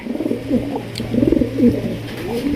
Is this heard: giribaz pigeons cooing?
yes